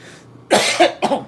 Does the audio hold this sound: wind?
no